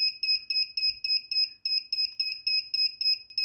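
A Samsung phone connected to a DC power supply beeps steadily, a clean, high electronic tone repeating rapidly in an even rhythm with a short gap, loud and alone.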